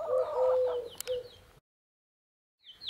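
Small bantam hens clucking close by in a short burst of soft clucks, then a brief silence before another faint cluck.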